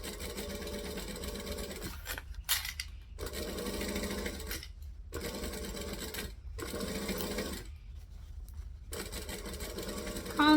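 Sewing machine stitching a seam on a child's hat, running in steady whirring bursts with brief pauses between runs as the fabric is turned around the tight circle.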